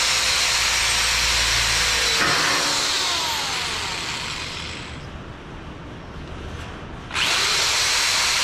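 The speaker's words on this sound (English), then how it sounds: "the corded drill sucks, but it's better than replacing that other drill" A corded electric drill runs during fabrication work on a Chevy cab, loud and steady at first, then whining as it slows and fades midway, before surging back to full speed near the end.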